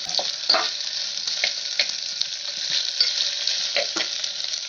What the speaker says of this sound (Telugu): ఇప్పుడు ఆకుకూర కూడా వేద్దాం.